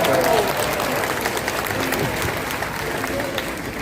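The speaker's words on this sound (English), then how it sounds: "Round of applause for our all" Spectators clap at a bird show at Disney's Animal Kingdom theme park, a dense steady patter of applause that starts loud and eases slightly, with brief voices mixed in.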